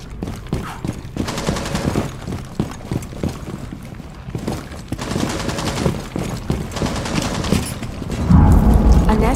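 Rapid bursts of gunfire from Rainbow Six Siege, played on an objective during a Containment special event, crackle in dense overlapping volleys, with a heavier, louder barrage near the end.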